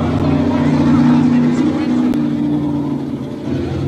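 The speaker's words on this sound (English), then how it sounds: "Pound it on the second burnout." A drag racing car does a burnout, and its engine roar holds steady and loud with a sustained droning tone throughout.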